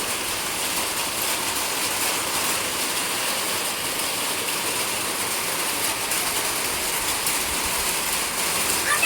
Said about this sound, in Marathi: बाहेर खूप पाऊस पडतोय बघा.